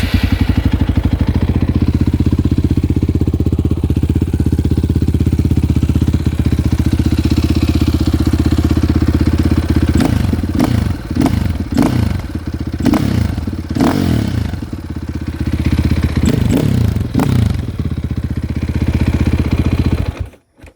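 A warm KTM 530 EXC supermoto starts and settles into a loud, close, thumping single-cylinder idle, with a few revving blips in the middle before it shuts off at the end.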